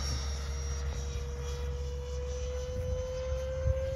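Steady whine and roar of a model jet aircraft making a pass, a sustained tonal engine note over a broad rushing drone, heard at a distance with no talking.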